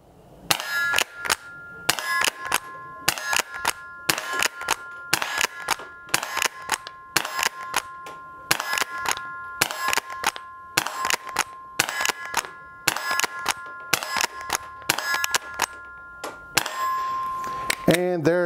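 A Winchester Model 1906 rifle fires quiet .22 Short rounds at steel targets, with about fifteen sharp, evenly spaced cracks, each followed by a faint metallic ring. The shots come one after another in a steady rhythm, with no talking.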